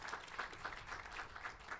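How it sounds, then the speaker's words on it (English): Steady crowd applause at a high school graduation ceremony, a dense wash of clapping with rhythmic swells, moderately loud and with no talking over it. "Give yourselves a round of applause, guys."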